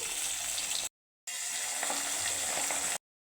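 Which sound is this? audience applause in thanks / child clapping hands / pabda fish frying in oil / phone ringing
pabda fish frying in oil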